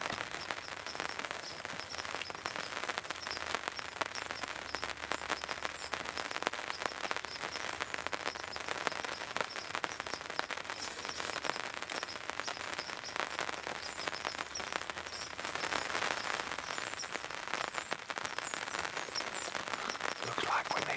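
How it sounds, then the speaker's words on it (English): Steady rain falls outdoors in the woods during a whitetail hunt, a soft continuous patter with scattered drops and occasional faint bird chirps. "Still raining."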